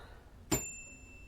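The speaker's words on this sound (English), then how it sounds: "Bell." A single meditation bell struck once during a breathing exercise, a soft clear ding with a long thin ringing tail that fades quietly.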